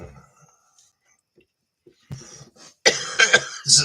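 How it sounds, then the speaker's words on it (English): After a quiet stretch, a person coughs several times in quick, harsh bursts close by, with some throat clearing. "You guys get to sit here and listen to me cough my lungs out."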